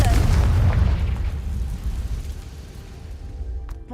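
In the Hogwarts Legacy video game, a Confringo explosive spell goes off as a loud, booming blast that rumbles and slowly fades, followed by a few faint clicks near the end.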